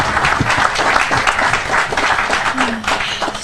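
Crowd at a riverfront development plan unveiling gives a strong round of applause for project partners, dense rapid clapping filling the room with a few scattered voices underneath.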